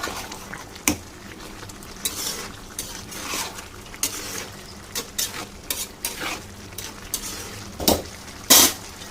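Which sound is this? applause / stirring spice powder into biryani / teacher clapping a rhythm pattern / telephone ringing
stirring spice powder into biryani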